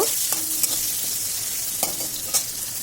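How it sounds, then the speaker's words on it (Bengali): Chopped onion fries with five-spice in a pan for a tilapia fish curry. A soft, continuous sizzle runs throughout, broken by a few sharp scraping stirs of the spoon against the pan. "আর যে পেঁয়াজটা কুচি করে রেখেছিলাম সেই পেঁয়াজটা দিয়ে দিলাম পেঁয়াজটা একটু লাল লাল করে ভেজে নেব"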